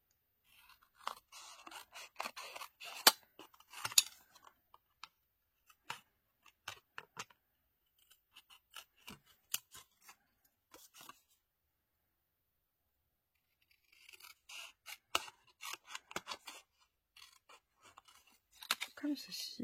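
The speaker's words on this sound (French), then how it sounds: "Donc, on vient couper." Scissors snipping paper for a handmade advent calendar craft: clusters of quick, crisp cuts close by, a pause in the middle and another burst of snips near the end, with a soft voice speaking at times.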